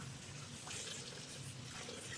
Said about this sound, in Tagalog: lagyan natin to ng tubig para maging basa yung loob na enclosure